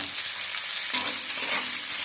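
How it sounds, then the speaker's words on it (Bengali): Fenugreek greens fry with green chillies in a pan, giving a continuous close sizzle with stirring scrapes and a brief louder crackle partway through. "এবারে সেই মেথি শাক ভাজাটা আর দুটো তিনটে কাঁচা লঙ্কা আমি দিয়ে দেবো।"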